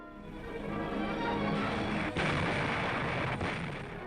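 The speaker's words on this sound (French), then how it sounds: "l'artillerie de la marine s'attaquait aux murs d'acier et de béton de la forteresse Europe" Naval artillery bombarding coastal fortifications, a continuous heavy rumble of gunfire with a couple of sharp blasts punctuating the dense roar, loud and sustained throughout.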